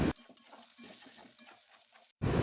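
Spice paste fries in hot oil with whole garam masala in a wok for a stuffed pointed gourd curry, giving a soft crackling sizzle broken by scraping stirs, close and steady, then a brief gap before louder noise returns.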